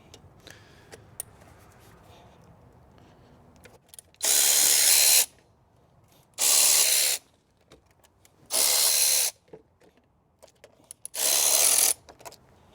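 Four separate bursts of a power tool driving out 10mm screws on a 1986 Corvette C4 engine bay, each burst about a second long with short pauses between, close and loud over a quiet background.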